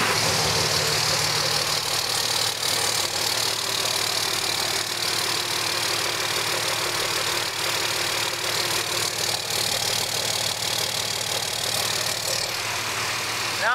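A Cummins diesel engine in a dually truck with a stock turbo idles steadily, heard up close from the exhaust as a continuous, even rumble with no talking.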